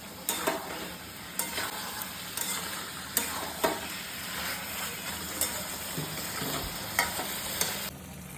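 Dhaba-style chicken is stirred and fried in oil until the oil separates, with regular scraping strokes of a spatula against the pan over a continuous sizzle.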